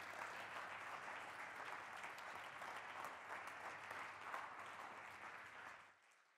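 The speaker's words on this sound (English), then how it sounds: "A warm round of applause for James Vincent," Audience applause after a talk at a brand industry event, sustained clapping from a crowd that holds steady and then tapers off quickly at the end, fairly quiet and without voices.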